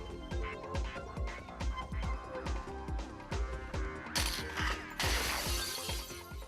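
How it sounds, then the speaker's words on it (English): A tall hands-free stack of drinking glasses collapses as the lower glasses shatter, with a rapid series of sharp clinks and cracks that builds into loud bursts of breaking glass near the end. "caused glasses in the lower part of the pile to shatter"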